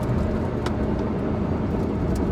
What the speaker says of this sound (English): has a very noisy exhaust, probably the most noisy exhaust from a factory that Ferrari ever created.